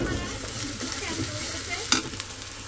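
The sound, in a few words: onion and ginger paste frying while stirred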